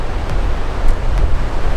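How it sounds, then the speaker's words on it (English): Heavy, low rumbling wind buffeting the microphone, constant and loud with gusty swells. "I know it's a bit windy under here,"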